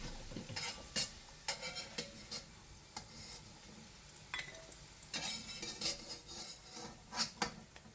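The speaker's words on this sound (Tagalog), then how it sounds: "kailangan baliktarin para maluto naman yung kabila ng ating potato hanggang ito ay mag golden brown" Potatoes frying in a wok and being turned, giving repeated scraping and clattering strokes over a steady soft sizzle.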